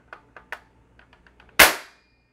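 A toy double-barrel shotgun fires cap shots: a few small mechanical clicks from the trigger, then one sharp, loud cap crack that rings off quickly, up close with no talking.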